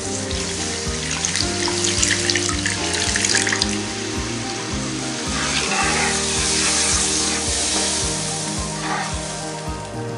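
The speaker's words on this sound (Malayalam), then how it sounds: "ഇതിലേക്ക് 200 ml വെള്ളം ചേർക്കാം." Water poured into a simmering Paal Puliyan fish curry gravy of spice powders in a pan, a steady continuous pour with soft sizzling and bubbling, close and fairly loud, with no voices.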